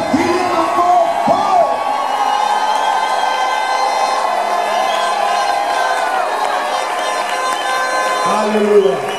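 A church congregation at an ordination service shouts and cheers continuously, a loud, dense crowd roar with whoops and raised voices throughout.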